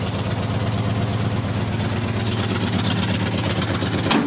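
A worn 390 V8 with a C6 automatic and a light stall converter idles with a steady, loping low throb, close and continuous, ending in a brief sharp blip.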